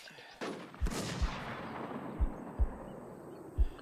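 Gunfire in the video game Infestation The New Z during a PvP fight, several sharp shots spaced irregularly over a steady ambient wash, loud and close.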